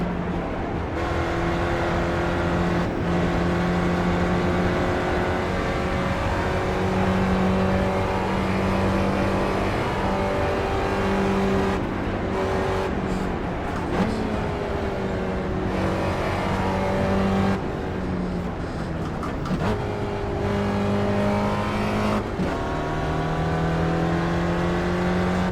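Race car engine in the iRacing video game, a loud sustained drone with pitch shifting up and down through gear changes and throttle lifts across the whole stretch, no talk over it.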